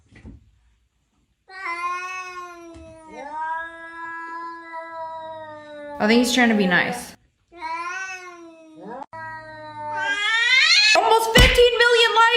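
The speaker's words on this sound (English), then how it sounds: "Almost 15 million likes on a video of cats meowing?" Several drawn-out, whiny cat meows and caterwauls in sequence, some overlapping, loud and close, with a brief spoken remark partway through.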